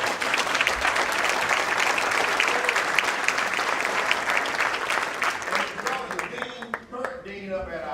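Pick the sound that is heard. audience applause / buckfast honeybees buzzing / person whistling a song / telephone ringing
audience applause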